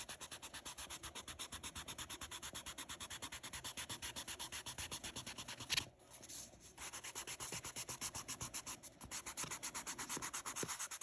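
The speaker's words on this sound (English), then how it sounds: "I'm going to erase my grid lines" Pencil eraser rubbing out grid lines on paper, a quick steady back-and-forth scrubbing rhythm, close and soft, with a short pause midway before the rubbing resumes.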